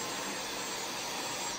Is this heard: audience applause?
no